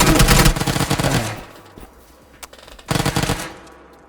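Automatic gunfire from the video game PUBG rattles loudly in a dense burst, pauses to near quiet with a single stray shot, then a second burst returns before fading.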